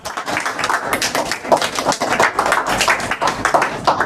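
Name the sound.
audience applause for group 2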